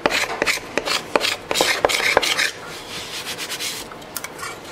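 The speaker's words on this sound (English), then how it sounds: "It's helping a little bit by scraping it real light." Carved mandolin wood is scraped lightly by hand in a run of quick, close rasping strokes that ease into softer, steadier rubbing toward the end, with no voices.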